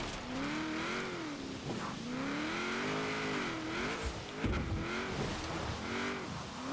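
A Nissan 240SX fitted with a V8 engine revs and drifts in Forza, the engine note rising and falling in repeated swells with occasional tire squeal, loud and continuous.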